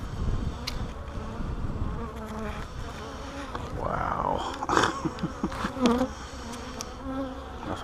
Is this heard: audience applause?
no